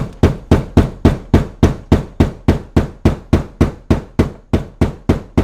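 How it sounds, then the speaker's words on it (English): A rubber mallet strikes a plastic ring again and again to knock it loose, about sixteen loud, evenly spaced thuds a third of a second apart, close up and with no talking. "You take a hammer or a mallet, I've got a rubber mallet, and you beat the ring counterclockwise until it comes out."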